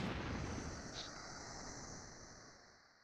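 Explosion blast in a Naruto animation, a broad rushing roar that fades gradually, with a thin high ringing tone lingering over the dying rumble.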